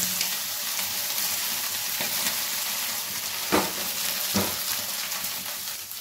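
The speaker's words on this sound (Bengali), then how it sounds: "তেলের মধ্যে আমি প্রথমে বয়েল চিকেনটা দিয়ে দেবো।" Boiled chicken frying in hot oil in a wok, a steady hiss of sizzling throughout, broken by a few sharp clacks of a spatula against the pan.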